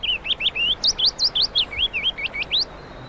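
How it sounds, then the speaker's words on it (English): A willow warbler sings a quick run of bright, high, whistled notes along a river bank, about a dozen in a steady flowing phrase, clear and fairly close with no talking. "All along the river bank is the fragile delight of the willow warbler."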